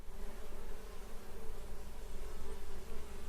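Bees buzz in a close, continuous swarm-like drone, loud and steady for the whole stretch with slight pulsing, no voices.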